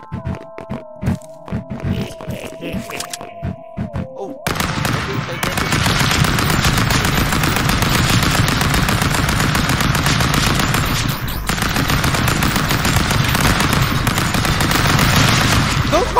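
Stick Fight video game gunfire: after a few seconds of quieter game sounds and tones, a dense, unbroken stream of rapid automatic shots erupts and stays loud and continuous to the end.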